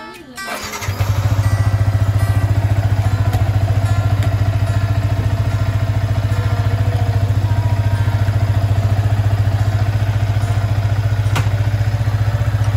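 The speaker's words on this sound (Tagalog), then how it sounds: "Pandarin natin ang motor." A motorcycle engine cranks and catches, then settles into a loud, steady idle that runs on close by.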